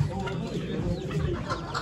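Chickens and roosters cluck and fuss at a poultry auction in Ankara, with a crowd murmuring and people talking over the birds.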